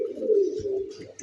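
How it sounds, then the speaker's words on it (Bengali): Racer pigeons cooing up close, a steady low throaty coo rolling through the whole short stretch with a few faint chirps above it. "দেখার মতো এক পেয়ার রেসার।"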